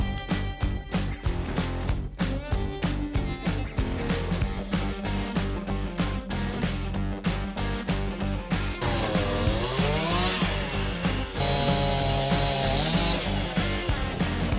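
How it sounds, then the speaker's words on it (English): Chainsaw running close and loud on tree-removal work near a house, first in fast rhythmic pulses, then a sustained whining cut with rising and falling pitch, no talking. "get one of our chainsaws dialed in for the bigger cuts towards the trunk"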